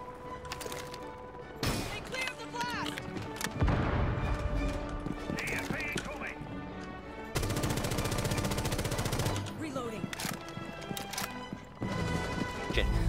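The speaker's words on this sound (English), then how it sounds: "And what are these shots, Geo?" Gunfire in Rainbow Six Siege: dense bursts of close shots and rapid automatic fire over a busy, noisy mix, with a brief voice in places.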